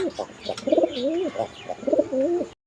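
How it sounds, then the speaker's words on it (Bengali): Pigeons coo nearby in soft, warbling phrases, repeated several times, with faint chirps and background rustle. "এখানে চমৎকার একজোড়া কবুতরের কালেকশন রয়েছে"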